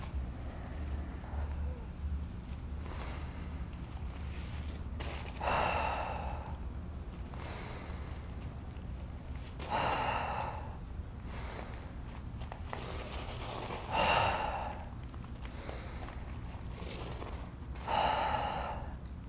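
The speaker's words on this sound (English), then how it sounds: "So now I'm going to demonstrate the set of Huffpuff breathing." A Qigong practitioner performs huff-puff breathing: four forceful, evenly spaced exhalations roughly every four seconds, close and clear, with quiet breathing and room tone between them.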